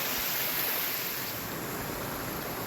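Creek water running down a hillside into a lake, a steady, dense rushing and splashing wash heard close and loud throughout, with no voices.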